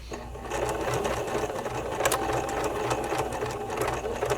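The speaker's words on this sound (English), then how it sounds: "And I'm going to come in here and do my bar tack." Sewing machine running a bar tack on bra neckline trim, a continuous close, rapid rattling stitch that holds steady for several seconds without talk.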